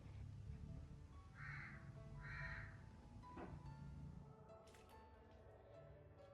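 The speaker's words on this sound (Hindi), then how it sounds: "यहाँ पे आपको आवाज़ें आएंगी कौवों की।" Crows cawing at dawn, around the time of the Fajr prayer, two clear drawn-out caws close together, then a faint scattering of further calls over a low steady background hum.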